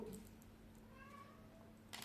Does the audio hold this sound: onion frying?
no